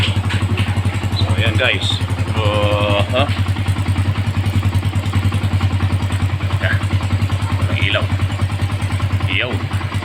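Motorcycle engine idling steadily after a top overhaul, a loud, even low thrum throughout with some clattering, while someone talks over it.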